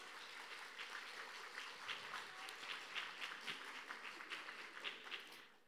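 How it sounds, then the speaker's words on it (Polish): An audience at an awards ceremony for rural housewives' circles in Pomerania applauds warmly in a steady, dense wash of clapping that holds at an even level and fades at the end, with no voices over it. "Gorące brawa."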